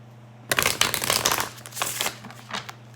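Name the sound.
shuffling a deck of tarot cards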